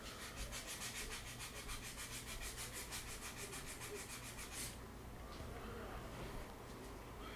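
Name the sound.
sanding wood with 80 grit sandpaper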